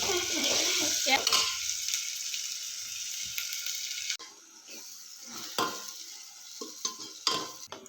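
Masala roasting in a hot pan for misal pav, a loud steady sizzle and fry with a spatula scraping and clinking against the metal, easing to quieter crackling with occasional stirring knocks.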